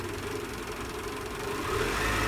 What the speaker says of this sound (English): increase the engine rotation to 4000